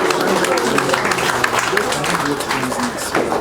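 An audience at Sen. Florence Ita Giwa's 80th birthday anniversary celebration gives her sustained applause, dense crowd clapping with voices mixed in.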